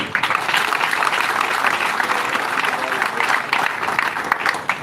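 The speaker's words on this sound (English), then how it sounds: "give a thunderous hand clap to our parliamentary team" An audience gives a thunderous round of applause for a parliamentary team, dense, loud hand clapping with shouts mixed in, continuing throughout.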